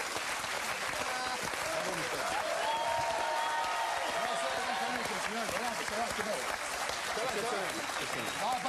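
Studio audience applause on a French TV game show set, sustained and dense across the whole stretch, with voices talking over the clapping.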